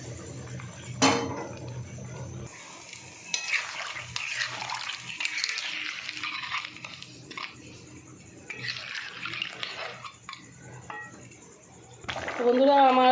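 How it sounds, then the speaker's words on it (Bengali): Water splashes into freshly ground spices for a crab curry, with clattering pots and utensils, running-water hiss, and a louder burst of pouring and clinking near the end. "মশলা বেটেছি, ওই জলটা দিয়ে দেবো।"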